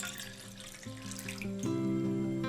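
Tap water pours into a medium saucepan for udon broth, a close, continuous splashing stream whose pitch rises steadily as the pan fills; no talking.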